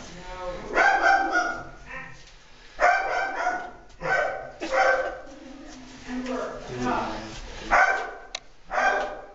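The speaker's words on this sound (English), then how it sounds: "Well, hopefully the dog didn't find a raccoon or something." A dog barks repeatedly inside a cave, loud echoing bow-wow bursts coming in several clusters with short pauses between them.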